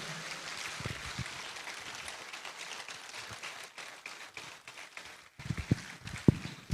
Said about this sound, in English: You have to keep clapping until His Excellency gets in.